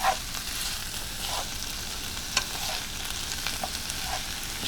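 Vegetables and mushrooms stir-frying in a hot pan, a steady close sizzle with occasional crackles and brief scraping stirs, no voices over it.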